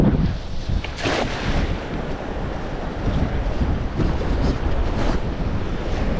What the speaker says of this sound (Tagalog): Saka po medyo malakas po yung hangin.